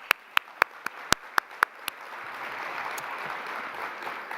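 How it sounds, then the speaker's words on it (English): A handful of sharp, isolated claps ring out close by at first, then the applause swells into a broad, sustained wash of clapping from a conference audience honoring paper authors. "give a round of applause"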